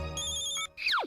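A cartoon telephone rings with a bright electronic tone, one sustained burst followed by a short falling chirp, loud and alone without any voices.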